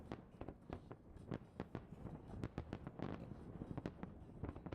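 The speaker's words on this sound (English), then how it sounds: "That looks like a hell of an awesome fireworks display." A fireworks display over a river bridge crackles and pops in a rapid, irregular run of sharp bursts, faint and distant, with no talking.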